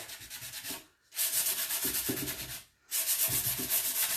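Hand sanding a painted wooden seed crate: two long, loud rasping strokes of sandpaper on wood, separated by a short pause, close and alone.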